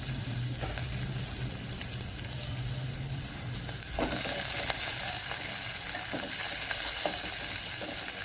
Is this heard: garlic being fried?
yes